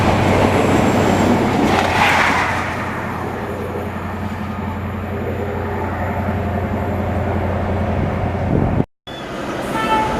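A Class 91 Virgin Trains East Coast train passes through Stevenage station on the East Coast Main Line, a loud, close, sustained roar of wheels and rushing air that eases slightly midway, then cuts off abruptly near the end, with no talk.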